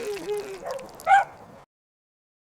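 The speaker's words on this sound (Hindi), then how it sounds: "अचानक एक शरारती कुत्ता गिफ्ट छीनकर भाग गया।" A mischievous cartoon dog in an animated children's story lets out one short, sharp bark or yip over faint background sound, followed by near silence.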